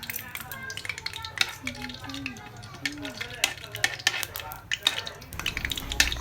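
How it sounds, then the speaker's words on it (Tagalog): Cooking oil bubbles and food fries in a pan, a steady crackling sizzle with scattered sharp clinks of a utensil against the pan, while someone talks close by. "nilagyan ko na siya ng langis. At maya-maya, kumukulo na siya."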